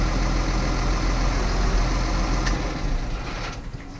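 A New Holland T6.175 tractor engine idles close by, a steady rumbling low drone constant throughout with a brief sharp click partway and a slight drop in level near the end.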